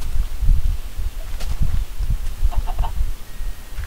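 Chickens in the Minecraft video game cluck in a few short, soft bursts over a steady low rustling bed of game ambience.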